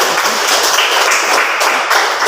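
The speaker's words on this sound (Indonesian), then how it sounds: "Sekali lagi tepuk tangan apresiasi" Applause from a classroom full of students, a dense, steady burst of many hands clapping together, loud and close for a couple of seconds.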